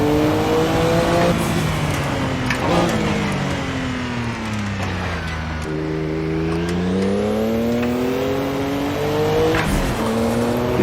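Porsche 962C race car in a sim racing game, its engine droning loud and steady for the whole stretch, pitch sliding down and then back up as the car lifts and accelerates through corners, with a hint of tire noise.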